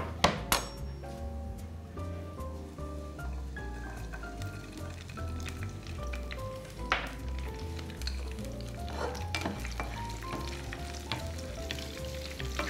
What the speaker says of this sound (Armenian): Շատ չենք տապակում, այնքան որ բույրը բացվի մթերքների